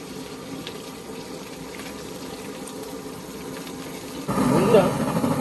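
Bhola fish is scrubbed and washed, with water splashing and running in a steady wash that turns louder and closer near the end, under outdoor background noise.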